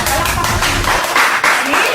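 Hands clap briskly in a dense patter during a scene from a Filipino movie, fairly loud and close, with voices mixed in underneath.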